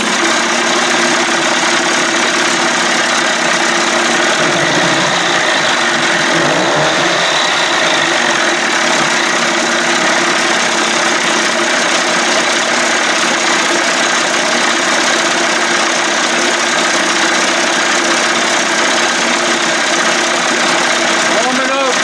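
A 1989 Johnson Tracker 25hp outboard motor runs steadily throughout, a continuous loud droning hum with a faint mechanical rattle and no pause.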